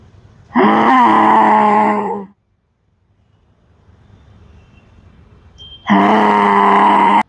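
Two loud, sustained roaring exhalations from a voice imitating a lion during the yoga lion pose (simhasana), each about two seconds long, separated by a pause filled with faint background noise.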